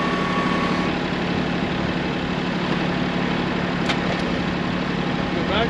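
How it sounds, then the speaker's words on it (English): A tractor engine idles in an apple orchard while backing up, producing a steady low, continuous rumble at moderate distance with no change in pace, and faint voices in the background. "Back the tractor up."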